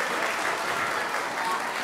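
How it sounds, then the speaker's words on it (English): Steady applause from families at an elementary school kindergarten celebration, honoring a teacher and her class, an even wash of clapping with no break. "Let's give a round of applause to Ms. Stewart and her awesome class."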